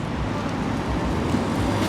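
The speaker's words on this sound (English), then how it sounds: "It's hard to hear with all that traffic" Street traffic in Kapahulu, Honolulu, a steady wash of roadway noise from passing cars, broad and continuous at moderate loudness with no distinct voices.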